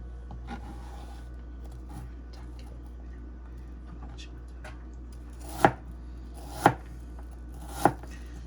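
Knife chopping food on a board, faint light taps at first, then three loud, separate chops spaced about a second apart over a low steady hum.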